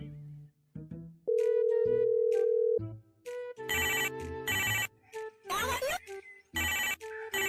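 A mobile phone rings with an incoming call, a steady electronic tone followed by bursts of bright melodic ringtone notes repeating in short phrases, loud and close, with a voice briefly speaking around it.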